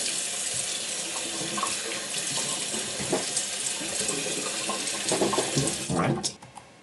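Tap water runs steadily into a sink as someone prepares to shave with shaving cream, a continuous close splashing rush with small clinks near the end before it cuts off.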